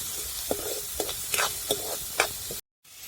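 Onion frying in a little oil in a pan, a soft continuous sizzle broken by several distinct stirring scrapes roughly every half second, close and without talk, ending in a brief dropout.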